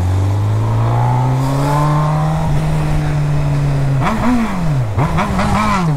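A motorcycle engine rises in a long, loud rev, then drops and surges again in several quick throttle blips toward the end, close and dominant with no talk over it.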